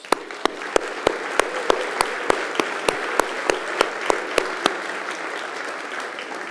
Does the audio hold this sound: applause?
yes